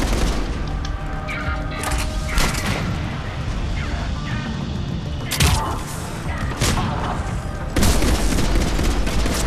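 Heavy gunfire and booming blasts from Mass Effect 3 multiplayer fill the scene continuously, with sharp louder bursts standing out over a dense, loud battle din.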